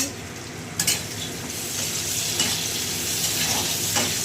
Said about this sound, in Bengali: আলুটা ভাজছি, টমেটো দিয়ে দিচ্ছি, ভাজছি দিয়েছি